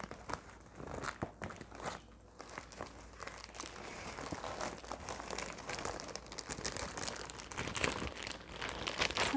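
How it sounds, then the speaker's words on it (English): A plastic supermarket shopping bag crinkles softly and continuously, with close, quiet rustles and small crunchy bursts in a calm setting and no voices. "So I have my shopping bag right here."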